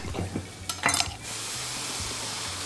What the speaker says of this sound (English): let's just saute that to get the cooking process started